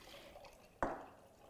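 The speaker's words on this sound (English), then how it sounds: "I'm gonna pour it now in here." Homemade coconut milk splashes sharply once into a container as it is poured, a single brief liquid slosh that quickly fades into quiet.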